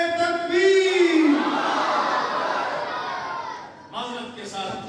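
A crowd at a religious conference chants a slogan in response, a loud swelling mass of voices with a lead voice rising over it, settling into murmuring chatter.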